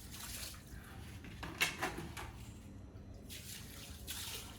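Dirty biking gear is washed in water with soap powder, giving soft sloshing and splashing with a brief louder splash in the middle, faint and close, no talking.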